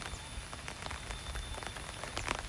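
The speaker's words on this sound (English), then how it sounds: "we're definitely walking in the rain" Rain in Phuket, Thailand, heard while walking outdoors through a university campus: a steady, close patter of drops striking surfaces with scattered sharper splashes, moderately quiet and continuous.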